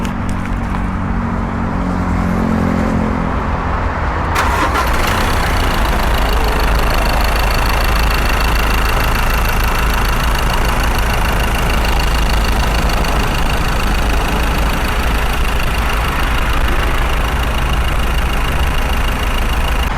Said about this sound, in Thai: อ่ะเดี๋ยวเราฟังเสียงเครื่องยนต์กันต่อเลยค่ะ